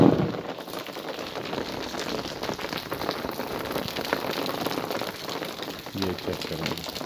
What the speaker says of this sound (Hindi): सावन की पहली बारिश हो रही है गांव में।